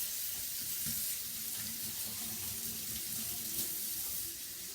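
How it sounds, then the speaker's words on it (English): Running tap water pouring steadily into a kitchen sink as hands are washed, a continuous close hiss with no voices. "let me wash my hands"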